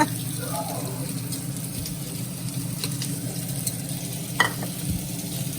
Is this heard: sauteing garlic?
yes